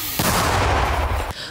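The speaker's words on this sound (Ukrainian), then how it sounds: "黑暗中响起大炮声，就像信号一样" A loud, sustained roar of artillery fire in a night forest battle between Ukrainian and Russian forces rumbles for over a second, dense and booming, then cuts off abruptly.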